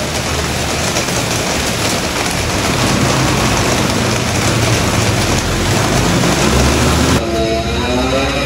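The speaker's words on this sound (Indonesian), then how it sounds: "dari awal perjalanan udah hujan terus" Steady heavy rain pours down on a hike to Mount Raung via Sumberwringin, a loud, dense hiss that fills the whole stretch before cutting off abruptly near the end.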